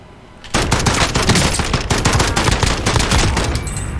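Gunfire in Call of Duty: Modern Warfare Plunder mode bursts in after a short quiet lead-in, a loud, sustained rattle of rapid automatic shots mixed with other overlapping weapons.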